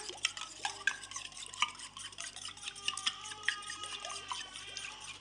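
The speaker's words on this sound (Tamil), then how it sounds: "இப்போ இதை நல்லா கலக்கி எடுத்துக்கோங்க. இதை நல்லா அடிச்சுக்கலாம்." Eggs are beaten in a bowl for an omelette, with quick, light wet clicks and taps of a utensil against the bowl repeating in a steady whisking rhythm, faint and close.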